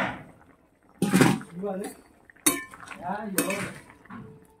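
A lid goes onto a cooking pot of simmering eggplant and potato: two distinct metallic clanks with brief ringing, separated by a pause, while a voice talks softly between and after them.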